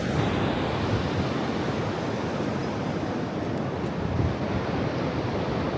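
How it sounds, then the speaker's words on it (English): Ocean waves roll slowly onto a beach in a steady, broad wash of surf mixed with wind noise, continuous and fairly close with no voices. "With the water just kind of slowly rolling in."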